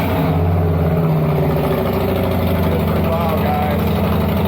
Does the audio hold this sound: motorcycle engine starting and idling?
yes